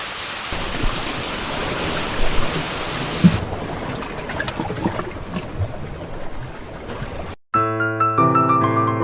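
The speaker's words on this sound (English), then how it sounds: "the rain came down to the earth and the flood began." Rain and thunder sound effect for a flood, a dense broad rush of heavy rain with low rumbling that cuts off abruptly and gives way to music.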